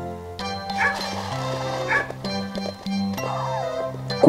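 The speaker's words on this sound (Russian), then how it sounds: "Собака." A dog gives several quick barks and yips in short bursts, fairly close, with light background music underneath.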